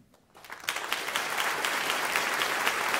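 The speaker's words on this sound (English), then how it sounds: "How about a rousing round of applause for all of our graduates, the class of 2023?" Audience applause for high school graduates at a pops concert, starting from near silence and swelling within the first second into sustained, dense clapping that fills the hall.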